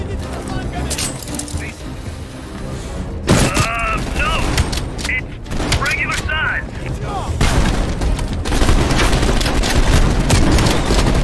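Shotgun blasts in the Call of Duty Black Ops Cold War campaign, heavy booming shots over steady in-game noise, with a player talking over the action throughout.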